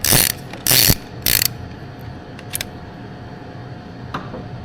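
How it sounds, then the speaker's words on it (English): A ratchet fitted with a 27 mm socket works loose a plug on a Jeep TJ, giving three loud close clicking bursts and then a few faint metallic ticks. "let's try to get a 27 millimeter down there and see if we can't get that thing loose"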